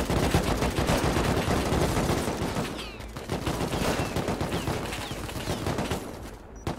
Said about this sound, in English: Watch out, they're shooting inside.